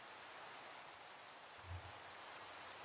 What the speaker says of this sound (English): it's super realistic rain because it just started raining outside.